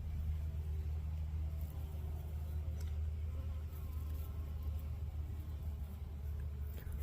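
Bees buzz around nearby as a low, steady hum that runs the whole time, joined by faint rumbling background noise.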